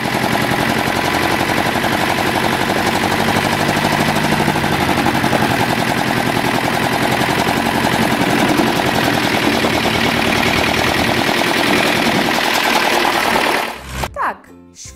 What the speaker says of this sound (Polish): To odgłosy traktorów.